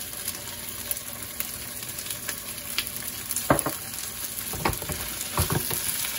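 Beef stir-fried with onion, chili, shallots and fish sauce makes a constant bright sizzle, broken by several louder tossing and scraping bursts near the end.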